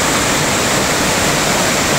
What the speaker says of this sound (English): there's the cascades.